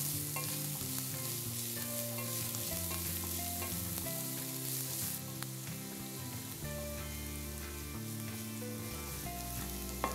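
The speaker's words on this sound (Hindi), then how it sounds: "हरी मिर्चों के बाद थोड़ा सा प्याज, प्याज को हल्का सा भूनेंगे" A little onion fries lightly with green chillies for a ridge gourd chutney, giving a steady, soft sizzle with occasional stirring. Background music plays over it throughout, and no one speaks.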